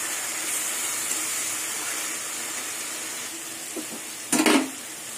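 A frying silver carp curry hisses steadily in a pan, then water is poured in with a short, loud gushing splash near the end.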